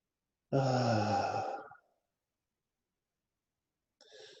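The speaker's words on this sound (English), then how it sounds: "And breath out all the way down and resume normal breathing." A slow, full exhale during a breathing exercise, one long breathy sigh of about a second close to the mic, then silence and a brief softer breath near the end.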